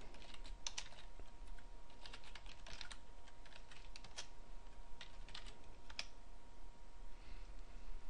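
Fingers type on a computer keyboard to telnet into a lab console server, a quiet, steady patter of key clicks with occasional sharper taps, close and alone.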